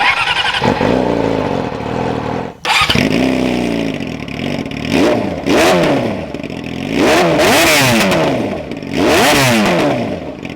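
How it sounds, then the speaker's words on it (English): A 2017–2021 Yamaha YZF R6 Raven sport motorcycle cranks over and fires up loudly, then gives a string of sharp throttle blips that rise and fall over a rough idle, close to the bike. "we'll just push on this button and bring this R6 to life."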